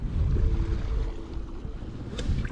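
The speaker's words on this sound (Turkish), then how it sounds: "güzel rüzgar ve dalga çıktı." Wind and waves at sea around a fishing boat out for horse mackerel, a steady broadband rush of gusting wind buffeting the microphone with low water wash beneath, continuous and close throughout.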